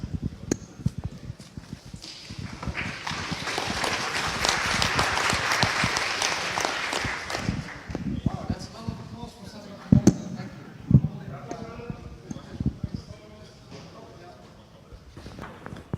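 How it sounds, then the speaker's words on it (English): An audience at a FOSDEM 2016 conference talk claps in a building swell that peaks and fades out, followed by scattered thumps and quiet murmuring voices. "Thank you for this wonderful applause."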